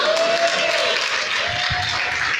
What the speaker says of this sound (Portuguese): Aplauda ao Senhor aí